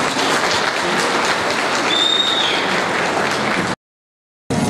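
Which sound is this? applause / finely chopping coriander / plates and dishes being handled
applause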